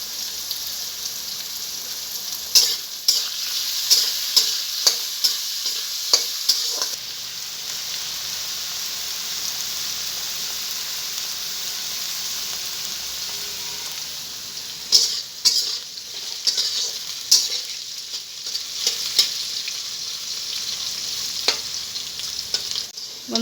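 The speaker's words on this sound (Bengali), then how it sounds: "বন্ধুরা দেখুন, আলুটাকেও আমি লাল লাল করে ভেজে নিয়েছি।" Potato pieces sizzle and hiss steadily as they fry in oil in a pan, with occasional scrapes and clinks of a spatula stirring, close and alone without voices.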